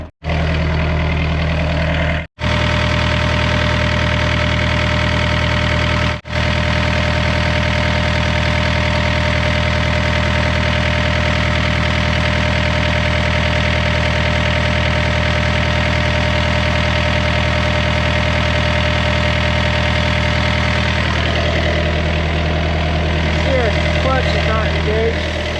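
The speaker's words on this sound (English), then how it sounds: "We're gonna leave it running there so the machine warms up a little bit." An equipment machine's engine idles steadily to warm up, a constant loud low drone with a brief cut near the start, running alone for about twenty-five seconds.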